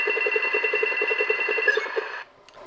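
A rebuilt wrist device prop from the film In Time gives off a rapid electronic pulsing tone after a button press, about two seconds of steady beeping buzz at close range, then cutting off to near silence.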